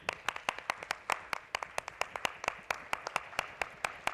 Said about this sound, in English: Zordar taliyan.